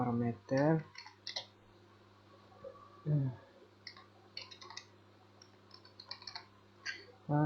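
Computer keyboard typing code, scattered bursts of key clicks under intermittent talk.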